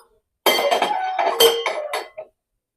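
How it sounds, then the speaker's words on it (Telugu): A metal pot set onto a stove in a home kitchen while a sweet lentil and jaggery dish is prepared, giving a short, close cluster of metallic clanks and clinks over nearly two seconds, then quiet. "గిన్నె పెట్టుకొని"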